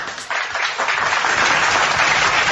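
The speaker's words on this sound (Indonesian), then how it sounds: "Oke, tepuk tangan untuk itu." An audience at a church gathering bursts into applause, a dense, loud wash of clapping that swells quickly and stays full and steady throughout.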